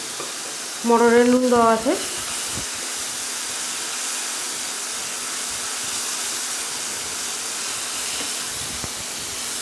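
Sliced onion sizzles in hot oil in a pan while being fried golden for ghugni, a steady close hiss that runs on throughout, with someone speaking briefly at the start.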